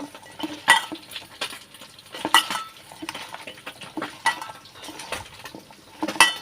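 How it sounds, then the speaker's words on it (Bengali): Chillies, small onions, turmeric, salt, cumin powder and oil being mixed by hand in a bowl, with repeated squelching, clinking strokes in an uneven rhythm, close and clear with no talking. "এবার এটাকে আমি এভাবে মাখিয়ে নেব"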